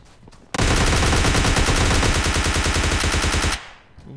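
Dense automatic gunfire rattles loud and close for about three seconds during a PUBG Lite match as an enemy is knocked down, a rapid even burst that stops abruptly, with no talking.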